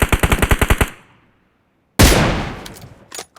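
Video game gunfire: a close, loud burst of about ten rapid automatic shots, a second of silence, then a single heavy blast that decays slowly, with a couple of faint clicks at the end.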